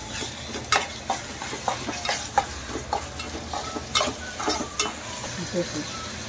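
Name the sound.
stirring onion and tomato frying in pan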